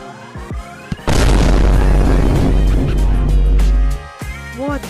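A Love Bomb goes off in the VR game Animal Company as a sudden loud booming blast with a crackling, sustained roar lasting about three seconds, preceded and followed by scattered softer game sounds and brief chirps.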